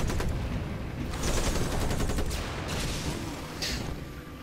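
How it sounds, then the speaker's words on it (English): Needle jets strafe targets in Civilization: Beyond Earth, a dense rattle of rapid gunfire bursts with sharp, hissing high-end crackle building and easing over several seconds, loud and continuous with no talk. "Finish him up with needle jets as we need."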